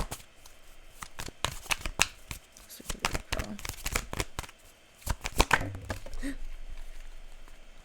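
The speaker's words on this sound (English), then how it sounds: "Can I pull some more cards for Virgo for the last week of April, please?" A deck of tarot cards is shuffled by hand close by, with dense bursts of riffling and flicking and a brief pause midway before the shuffling starts again.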